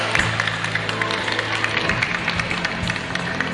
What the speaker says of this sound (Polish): Brawa dla sponsorów jeszcze raz.